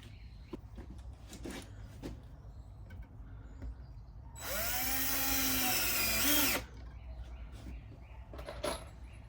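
A power drill drives screws into greenhouse shelving in one steady, close whirring burst of about two seconds, with quieter clicks and handling knocks before and after.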